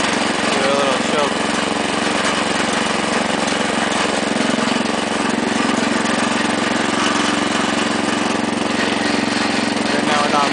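A Wheel Horse garden tractor engine runs loud and close with a constant mower-like drone that sounds slightly rough and uneven, and a person talks faintly under the noise.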